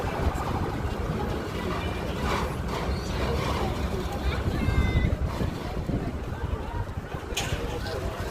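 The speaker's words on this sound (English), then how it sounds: "It's a very nice wind blowing right now." Wind blowing outdoors, roaring steadily as broadband rumble and microphone buffeting throughout, with people's voices and faint mechanical clatter mixed in.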